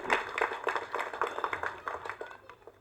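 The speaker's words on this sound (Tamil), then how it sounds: "ஸோ அதுக்கு ஒரு மிகப்பெரிய கைத்தட்டல் இளையராஜா அவர்கள்." Audience applause for composer Ilaiyaraaja at a Tamil film audio and trailer launch, a dense burst of many hands clapping that rises fast and then fades over a few seconds, with no talk.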